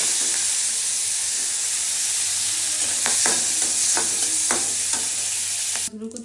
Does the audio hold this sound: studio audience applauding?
no